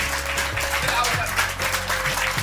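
An audience at a Yoga Day gathering applauds in honour of a yoga guru, a broad wash of clapping over a low steady hum, continuous and fairly loud throughout.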